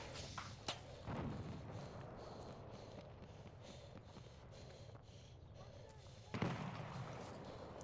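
Grenade explosions in the video game Battlefield 1: a few sharp, booming blasts, one early and one heavier near the end, over a constant din of battlefield noise.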